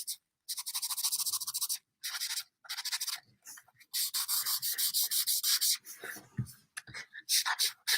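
Cleaner being rubbed back and forth by hand over an old printed basketball advertisement: close, dry scrubbing strokes in quick rhythmic bursts separated by short pauses, with no talking.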